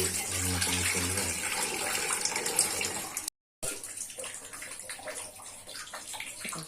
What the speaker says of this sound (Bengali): চালের মধ্যে অনেক নোংরা ধুলোবালি থাকে এইভাবে না ধুয়ে ভাত কিচকিচ করবে